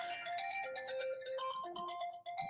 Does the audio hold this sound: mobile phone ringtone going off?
yes